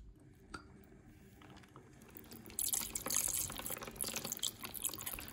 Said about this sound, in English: Now again, we'll just do normal flush.